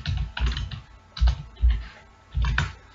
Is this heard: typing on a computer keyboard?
yes